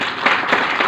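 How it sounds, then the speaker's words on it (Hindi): Loud applause from a seated audience at an Ayurvedic health product seminar, a brief dense burst of clapping with a few stronger swells, no voices over it. "ताली।"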